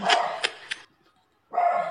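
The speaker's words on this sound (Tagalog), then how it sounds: "May aso. Panira." A dog barks in a few quick, sharp yaps, then pauses briefly before one more bark, fairly close and clear.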